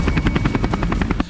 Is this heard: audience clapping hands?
no